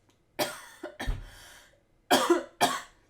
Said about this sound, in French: je suis désolée de tousser comme une malade